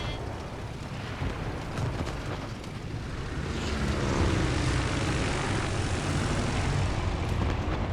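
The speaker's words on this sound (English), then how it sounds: "Fighter airborne." A fighter aircraft engine in World of Warships, launched from the carrier Kaga, a steady droning roar that swells louder midway and holds, with no talk over it.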